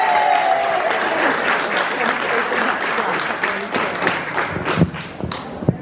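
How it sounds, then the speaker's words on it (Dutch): Sustained audience applause for award winner Carol Sestro at a Global Women Day 2017 award ceremony, a dense, steady wash of many hands clapping, with a few louder claps standing out near the end and a voice briefly audible over it at the start. "En een heel groot applaus voor Carol Sestro."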